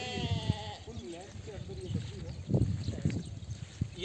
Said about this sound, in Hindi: आइए उस बकरी को देखते हैं, सींग वाली बकरी है।